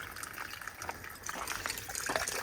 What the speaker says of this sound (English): This is the water for us to wash hands.